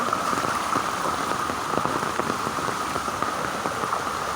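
Heavy rain pours steadily onto surfaces, a dense continuous hiss with scattered sharper drops, close and without pause.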